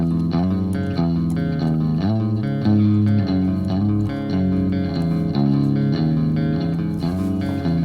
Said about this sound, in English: let me give it a little bit of reverb